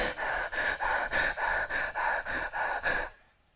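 Heavy, panicked breathing in rapid gasping cycles, about eight loud, close, ragged breaths in steady rhythm, then a sudden drop to near silence.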